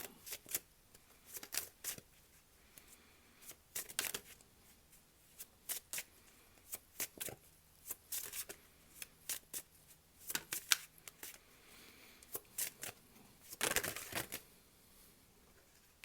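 Tarot cards being shuffled by hand in repeated crisp riffling bursts, close and fairly quiet, with short pauses between shuffles and no talking.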